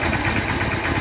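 A Hero Hunk motorcycle engine idles after a tappet clearance adjustment. It gives a steady, loud, close-up rumble that stays even throughout, with no ticking bursts standing out.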